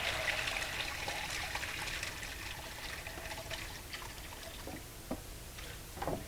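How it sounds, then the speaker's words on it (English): Whey and soft curd from homemade Gouda made with powdered milk trickle and splash as they are poured into a cheese mold, a steady faint liquid dribble with a few small splashes near the end. "I'm going to pour some out, get enough of what I think is enough to put in a mold"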